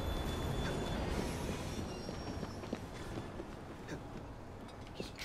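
A steam-era train in Assassin's Creed Syndicate rolls along with a continuous heavy rumble and rattle, steady and close, with faint metallic clicks over the noise.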